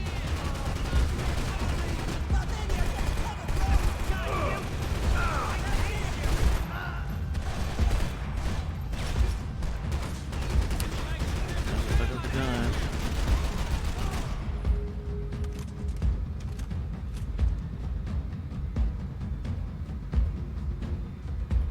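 Dense video game gunfire, sustained rapid bursts and booms for about fourteen seconds, then thinning to sparse shots over a quieter background, with some faint talk mixed in.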